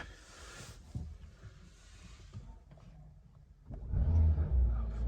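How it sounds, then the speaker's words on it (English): A 2022 Kia Sorento engine cranks and catches after a quiet stretch, then settles into a steady, fairly close low idle rumble. "Let's go ahead and start the engine."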